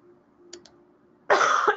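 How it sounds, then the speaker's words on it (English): A single hard cough bursts out close to the microphone near the end, preceded by a couple of faint clicks over a quiet background hum. "I'm going to be coughing a lot."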